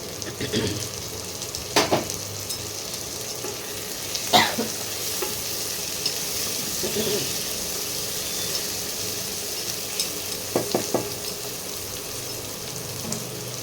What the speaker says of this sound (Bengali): পেঁয়াজটা ভাজা ভাজা হয়ে গেছে এবারে একটা টমেটো কুচি করে দিয়ে দিলাম